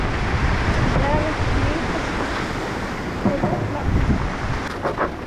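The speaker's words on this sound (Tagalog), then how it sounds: "At mahangin na naman." Strong typhoon wind roars and buffets the microphone continuously, with rushing water and faint voices in the background.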